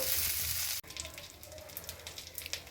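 Coriander roots sauté in a pan for chutney, opening with a loud, dense sizzle that cuts off abruptly, then a softer, scattered crackle of frying close by, with no talk.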